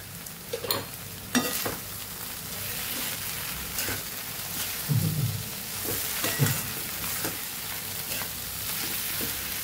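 Puffed rice khichdi with salt and fresh green coriander being stirred in a pan, steady soft sizzling under irregular scraping and clinking strokes of a spoon, close and moderately loud, no voices.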